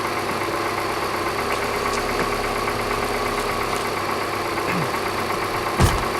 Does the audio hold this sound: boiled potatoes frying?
no